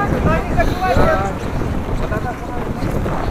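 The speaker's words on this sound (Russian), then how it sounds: "Ух, ветер какой сегодня." Strong wind buffets the microphone in a steady, loud roar at an outdoor festival in Yakutsk's old town in March, with faint outdoor background noise and a brief voice early on.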